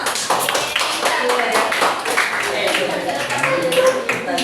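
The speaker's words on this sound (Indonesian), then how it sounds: "Bagus, tepuk tangannya." A class of students in a practice-teaching session claps hands in an uneven, close patter of individual claps, with voices mixed in throughout.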